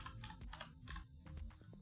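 Rapid clattering keystrokes on a computer keyboard, a steady run of close, crisp clicks with no talking.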